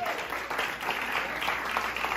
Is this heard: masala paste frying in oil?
no